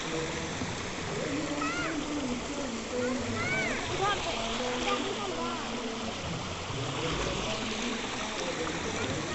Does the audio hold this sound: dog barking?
no